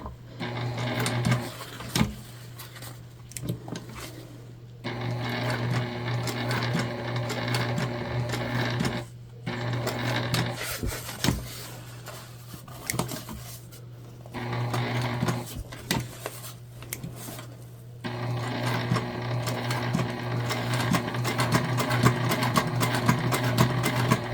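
A sewing machine hums and stitches through a fabric tote bag in several bursts separated by short pauses where the work is pivoted at the corners, with faint handling clicks between runs and a steady low motor drone underneath.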